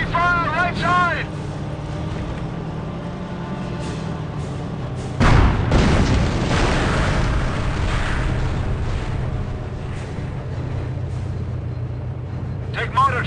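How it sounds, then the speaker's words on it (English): Heavy gunfire and explosions in the Company of Heroes Tales of Valor Tiger Ace campaign: a loud blast hits about five seconds in, followed by sustained rumbling fire under engine drone, with voices talking over it. "Heavy fire, right side."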